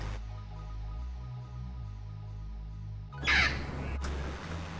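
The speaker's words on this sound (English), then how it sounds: "Those are wild parrots." Wild parrots in Los Angeles give harsh, grating calls, a loud squawking burst after a stretch of low steady hum, with a sharp click following, heard outdoors without speech.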